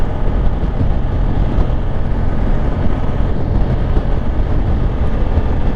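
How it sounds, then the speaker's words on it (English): Steady, loud rushing wind buffeting a motorcycle rider cruising around town at 60 mph, a dense low roar that continues without a break and with no voices. "The wind feels good."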